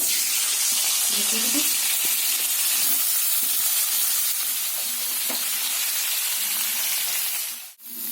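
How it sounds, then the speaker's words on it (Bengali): Steamed cauliflower frying in a pan with a little oil and turmeric gives a steady, close hiss and sizzle throughout, with faint kitchen clatter underneath. "ফুলকপিগুলো আমি একটু ভেজে নেবো। যে ফুলকপিগুলোকে একটু ভাপিয়ে নিয়েছিলাম।"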